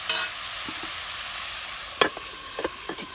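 Fish curry being stirred and mixed in a pan, with a few soft scraping strokes and faint sizzling over a steady low cooking hiss.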